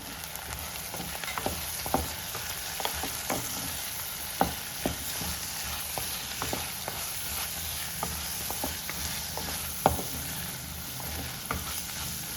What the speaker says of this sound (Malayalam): നമ്മുടെ വെണ്ടയ്ക്ക ഉള്ളി നന്നായിട്ട് വഴണ്ടിട്ടുണ്ട്